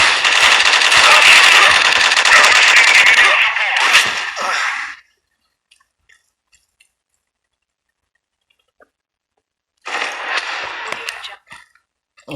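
Gunfire in the game Strike Team Online, loud rapid automatic bursts for several seconds, then near silence with a few faint ticks, followed by another sustained burst of shots.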